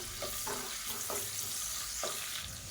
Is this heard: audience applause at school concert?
no